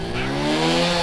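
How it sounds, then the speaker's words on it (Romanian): A small, refined 50cc motorcycle engine runs steadily with a buzzing, harmonic drone, close and loud for about a second with no voices. "o motocicletă mică, cu un motor rafinat, de 50 de cm cub, care nu sună rău deloc"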